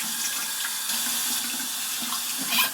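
Tap water runs steadily into a bathroom sink as lip scrub is rinsed off, a continuous close splashing hiss with a brief louder gush near the end.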